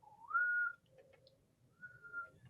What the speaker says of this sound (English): So when you whistle, your tongue is coming up and down your mouth.